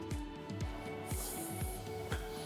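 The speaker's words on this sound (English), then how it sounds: "Now respray." Liquid is spritzed from a hand spray bottle onto clear paint protection film on a Tesla Model 3 rocker panel, giving a run of about five quick, evenly spaced close pumps.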